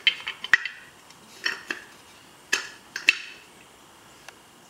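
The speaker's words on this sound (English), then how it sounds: "And then we start stacking these smaller washers." Metal washers dropped one by one into a metal pot, sharp ringing clinks and clatters spaced irregularly, each hit followed by a brief metallic ring, close and alone.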